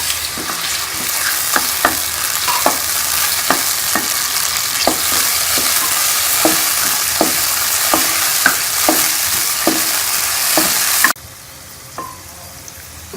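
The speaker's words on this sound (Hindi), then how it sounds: "कढ़ाई में घी को डालेंगे, इसके अंदर हम अपनी अरबियाँ डाल लेंगे, उसको फ्राई करेंगे।" Taro root fries in ghee in a wok with a loud, constant sizzle. A spatula taps and scrapes against the metal at a regular pace, and the frying noise then cuts away to a quieter background.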